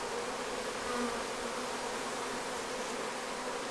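Honey bees swarm around a hive in a dense, continuous buzzing drone, close and steady throughout, with no voices.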